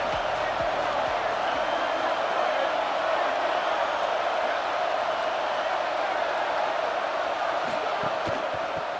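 Steady roar of a packed college football stadium crowd in the game College Football 27, during a Western Michigan versus Michigan matchup, a constant loud wash of massed voices with no breaks throughout.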